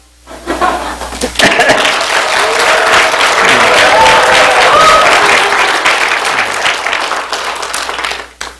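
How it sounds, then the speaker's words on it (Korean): Applause from a church congregation welcoming a visitor, starting with a few claps, swelling into sustained clapping for several seconds, then fading; a voice speaks briefly over it. "이래 한번 박수 더 받는 것도 괜찮죠"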